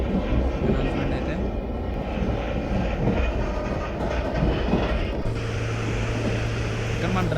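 A train engine in the Indian Train Simulator mobile game drones as a steady low rumble with faint rail clatter, holding at an even level for several seconds and shifting to a deeper tone near the end.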